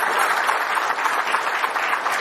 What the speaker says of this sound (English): I think we should have another round of applause for the car, for the drivers, for everyone.